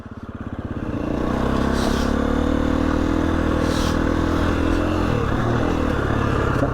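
A motorcycle engine held on throttle during a wheelie attempt, rising to a loud, steady, rough drone after the first second and staying close and continuous throughout.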